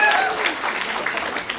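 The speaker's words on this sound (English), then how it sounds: "A big applause for you guys today." Audience applause at a graduation day ceremony at an institute of technology and management, a dense burst of clapping from a large crowd, loud and sustained throughout.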